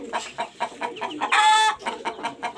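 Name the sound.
chickens clucking, rooster and hens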